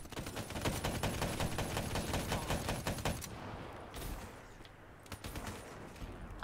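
Rapid automatic gunfire rattles for about three seconds in the Call of Duty: Black Ops 3 video game, then gives way to a few scattered, quieter shots.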